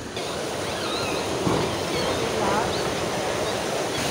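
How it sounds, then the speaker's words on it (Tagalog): Rough, high sea waves surge and wash continuously during a fishing outing, with wind buffeting the microphone in a loud, unbroken roar. "Maalon, mataas ang tubig ah."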